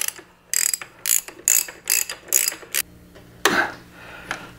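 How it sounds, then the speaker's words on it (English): A socket ratchet tightens the swingarm bolt nut on a 2019 Triumph Tiger 800, six quick clicking strokes in an even rhythm followed by a louder scrape and a faint final click, close and alone. "I've got the ratchet tie wrapped in place and the socket on the nut on the other side so I can tighten this up"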